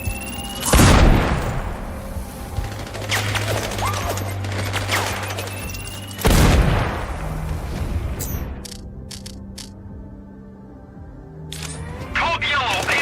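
Two heavy blasts, about five seconds apart, boom out in the combat video game Sniper Ghost Warrior Contracts 2, each trailing into a rumbling decay over a steady low hum, with sharp clicks near the end.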